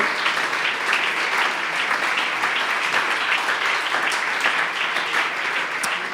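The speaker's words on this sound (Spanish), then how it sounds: "¿Usted le puede dar un aplauso a mi Dios, por favor?" A church congregation gives loud, sustained applause, with dense, even clapping that stays strong throughout without pause.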